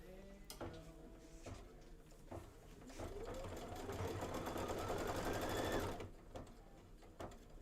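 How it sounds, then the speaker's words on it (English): Embroidery machine stitching out a quilt block in brown thread, a fast buzzing needle run with a rising whine that builds over several seconds, preceded by short mechanical clicks and thumps, then stopping abruptly. "I'm just going to leave the brown in there and just let it stitch."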